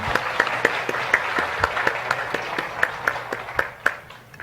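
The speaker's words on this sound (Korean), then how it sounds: "박수 한번 하겠습니다." A church congregation applauding during a Sunday service, with sparse, fairly rhythmic claps close by over a soft background of wider clapping.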